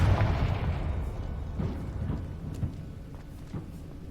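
Confringo fire spell blasting in Hogwarts Legacy, a heavy boom at the start that decays into rumbling, followed by a few smaller thuds and crackles, fairly close with no talk.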